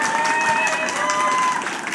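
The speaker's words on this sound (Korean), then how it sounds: "박수 한번 좀 보내주시면 좋겠습니다." Audience applause at a lifelong education center community festival in Gwangyang, a brief, steady patter of clapping with faint tones under it.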